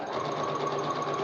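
Sewing machine stitching fabric for an avant-garde dress, a fast, steady mechanical whir running continuously and close for the whole short stretch, with no talk.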